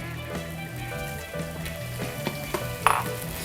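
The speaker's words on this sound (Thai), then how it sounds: "ตอนนี้ก็เอาไก่ลงไปทอดในกระทะนะครับ" Steady oil sizzling and crackling as chicken fries in a pan, with occasional clicks and light stirring scrapes over the constant frying hiss.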